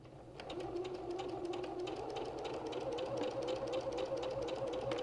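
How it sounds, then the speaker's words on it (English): A sewing machine stitching a quarter-inch seam on a quilted wall-hanging block, starting up and running at a steady rapid clatter with a rising motor hum, close and continuous. "So with that all set, I can start sewing."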